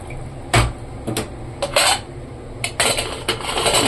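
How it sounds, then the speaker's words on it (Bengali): Metal clanks and knocks of a pressure cooker lid being set in place and closed, several sharp bursts in quick succession, close and fairly loud with no talking. "আর কুকারের ঢাকনাটা দিয়ে দেবো"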